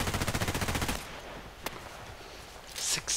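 Gunfire in a sniper video game on an old sawmill map: a rapid, loud burst of shots for about a second, then a single sharp report and a few faint clicks.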